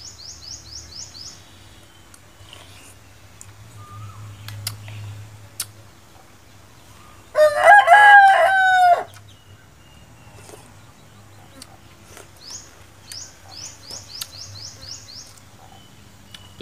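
Outdoors at a rural Thai kitchen, a rooster crows once loudly mid-way while chickens cluck faintly, with insects buzzing and a quiet hum throughout.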